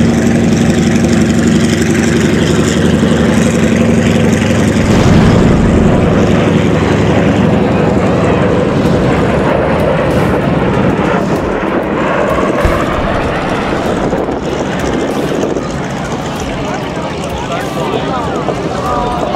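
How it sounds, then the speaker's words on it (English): A V-22 Osprey tiltrotor flies its demonstration at the Wings Over Houston Airshow 2014, a loud, continuous roaring rotor and engine drone that shifts as it passes, with a commentator talking over it on the public address. "One more high-speed pass of the Osprey as it before it completes its demonstration."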